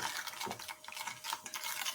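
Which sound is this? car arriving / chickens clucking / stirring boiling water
stirring boiling water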